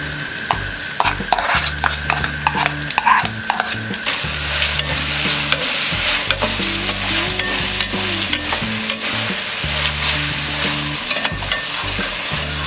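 Carrots, cabbage and capsicum stir-fried on high flame for street-style soya chunks fried rice: loud, continuous sizzling with repeated scraping and clanking of a spatula against the pan, no voices.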